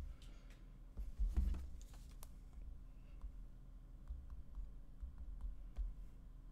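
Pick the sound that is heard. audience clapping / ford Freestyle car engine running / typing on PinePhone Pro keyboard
typing on PinePhone Pro keyboard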